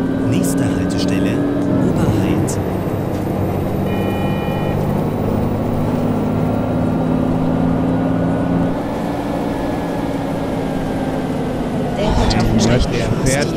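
A bus's ZF transmission roars in the OMSI 2 driving simulator, giving a sustained, loud engine and gearbox drone with a shift near the start and a rise toward the end.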